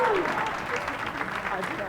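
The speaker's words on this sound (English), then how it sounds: "not all of you are applauding" An audience applauds at a theatre awards ceremony, a dense patter of clapping that fades slightly as a voice talks over it.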